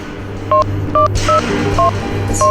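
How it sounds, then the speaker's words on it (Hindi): Five distinct two-tone keypad beeps, each short and evenly spaced, dialing a phone number over a low steady hum. "तू ऐसा कर, उस नंबर पे डायल कर"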